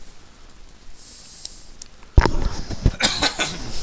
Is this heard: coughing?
yes